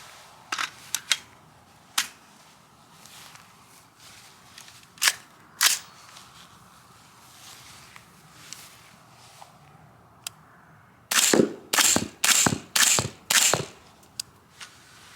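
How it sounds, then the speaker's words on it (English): Five suppressed 300 Blackout rifle shots with 220 grain subsonic ammunition through an Aero Precision Lahar L suppressor, fired in quick succession as sharp, close cracks after several scattered fainter pops. "5 shots, again 220 grain subsonic, 300 blackout, 5 shots with the Lahar L."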